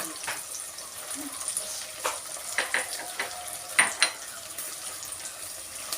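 Green chilies, ginger and garlic frying in a pan for papaya pickle and being stirred: a soft, steady sizzle with intermittent scraping strokes and light clinks, close and moderate in level.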